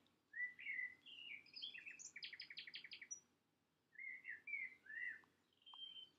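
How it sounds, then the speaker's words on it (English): Birds chirping outdoors in the background, several short whistled phrases and a quick run of rapid trilled notes, fairly faint and distant, separated by brief quiet gaps. "the birds are outside chirping"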